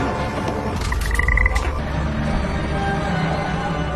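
Frog croaks sound in a short rapid burst over a dense, continuous background of insects and night ambience, fairly faint within the mix.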